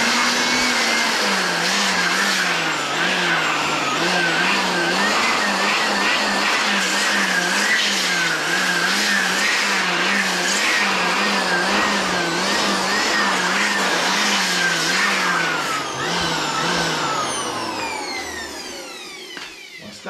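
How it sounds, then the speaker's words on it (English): Steady whining air blower cleaning dust out of an HP LaserJet Pro MFP M428dw printer, a loud continuous motor hum that wavers slightly in pitch, then trails off and winds down near the end. "Blow the dust away."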